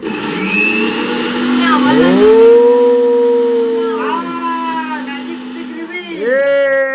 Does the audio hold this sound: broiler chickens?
no